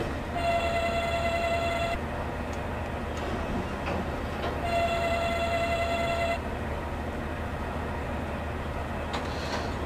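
Two long sustained train horn blasts in Train Simulator 2021 on a Czech line from Stará Paka to Trutnov, each lasting a couple of seconds over a steady rumbling cab ambience.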